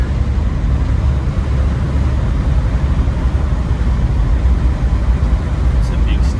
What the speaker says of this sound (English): Damn, bias ply tires are so noisy when you stop.